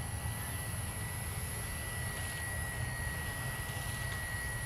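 A Walkera V120D05 flybarless 3D RC helicopter flies outdoors, giving a steady, fairly faint whine and rotor drone with a thin high tone, continuous and unchanging throughout with a little wind noise underneath.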